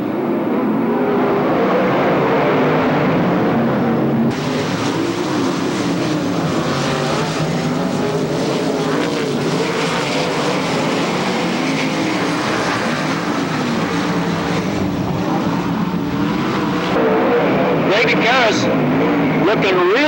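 Open 410 and 360 sprint cars race at the Black and White Classic in Tulare, California, engines roaring continuously and loud throughout, with a commentator talking over the racing.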